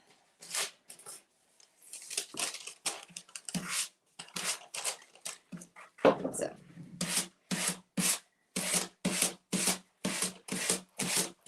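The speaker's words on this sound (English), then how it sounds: "I'll have to touch up those edges because I'm sanding off the" Decoupage paper edges are sanded off a project piece in close, scratchy rubbing strokes, irregular at first, then settling into a brisk, evenly spaced back-and-forth rhythm.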